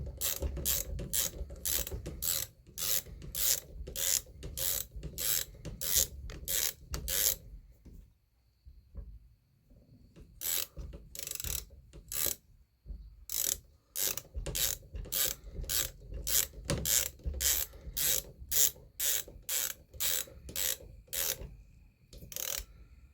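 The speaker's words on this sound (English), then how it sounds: "we got our 7/16. And we're just going to get it snug." A 7/16 ratchet wrench snugs down a breech plug on a T/C Omega muzzleloader, giving rapid bursts of sharp pawl clicks with a short pause midway before the clicking resumes, close and alone.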